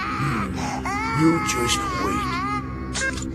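A newborn Saiyan baby in an anime wails loudly in drawn-out, rising cries close by, while an adult voice speaks briefly alongside.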